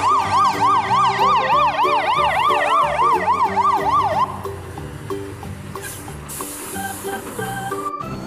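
A loud wailing fire truck siren cycles rapidly up and down nearby, then cuts off, leaving a rumbling engine and scattered clatter.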